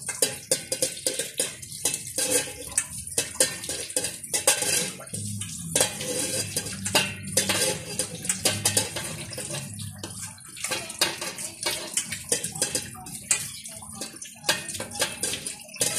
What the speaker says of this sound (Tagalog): Niluglugan ko lang po yung ating takip mga kaguro.